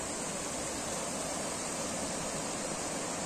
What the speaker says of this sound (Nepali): फाइनली हामी चाहिँ खोला आइपुग्यौँ हो खोलाको दृश्य यस्तो छ